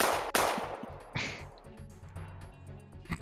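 Gunfire from a video game cracks out in a sharp shot and a few scattered bangs over a low rumbling background, with no talk.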